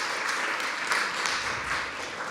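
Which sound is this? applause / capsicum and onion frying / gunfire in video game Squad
applause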